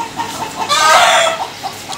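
A village chicken clucks loudly and close by, its call rising into an extended squawk midway, with softer clucks and farmyard noise around it.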